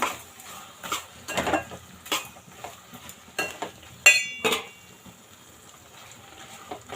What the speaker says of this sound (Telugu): ఇప్పుడు ఇవన్నీ బాగా కలిపేసుకుందాము